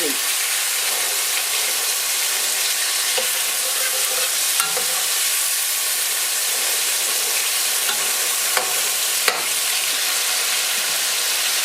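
Fish fries loudly in a pan with oil, a dense continuous sizzle and hiss, broken by a few sharp knocks and scrapes as the pieces are turned.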